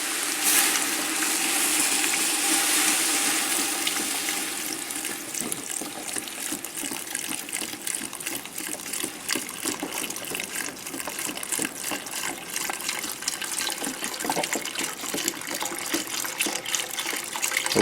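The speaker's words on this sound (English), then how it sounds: "I put the stock and throw the beans in." Chicken stock gushes and splashes into a pot of black beans for a pumpkin soup, a loud, steady wet pouring rush close up that fades slightly but continues throughout, with no talking.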